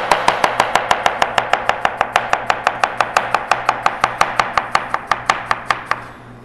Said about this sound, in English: First thing you want to do is wash the cucumber, peel it, then slice it very thin